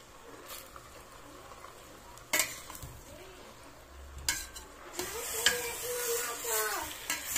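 Chicken adobo with black mushroom cooks in a pan without oil, giving a soft sizzle under stirring and scraping, with a few sharp utensil clacks and a brighter, busier frying hiss building toward the end.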